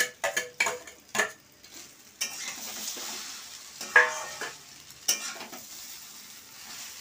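Chow mein fries in a pan while being stirred, with sharp spatula clacks and scrapes over a steady faint sizzle, busiest at the start.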